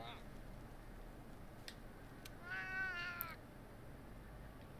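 Cats meowing in the video game Monster Hunter World, a short high meow rising out of faint background game ambience, with a few brief clicks around it.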